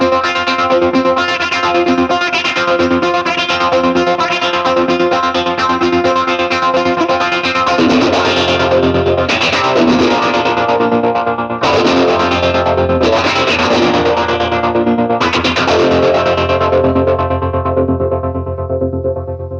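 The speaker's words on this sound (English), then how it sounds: "What I'm going to do is I'm going to mix it with a little bit of envelope filter, and you could really hear how you can get a really neat synthy kind of tone with it." Electric guitar run through a Matthews Conductor optical tremolo pedal combined with an envelope filter, giving a loud, synthy, distorted tone with rhythmic pulsing chords and swells throughout, no talking.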